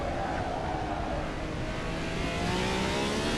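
A Ferrari 312T Formula 1 car revs high in the racing game Assetto Corsa at the Nürburgring, its engine whine climbing steadily and staying loud and constant with no talk over it.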